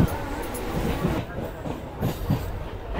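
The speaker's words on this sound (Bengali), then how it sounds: "এই কৃষ্ণনগর স্টেশন আমাদের ট্রেনটা ঢুকছে।" A train entering Krishnanagar junction station, loud rumbling wheels with rhythmic clickety-clack beats and occasional squeals, close by and continuous.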